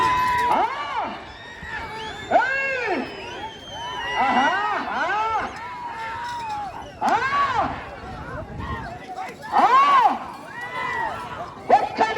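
Wedding guests in Nandyal district cheering for the couple, with loud overlapping whoops, shouts and high calls that swell and fade in waves alongside talking voices throughout.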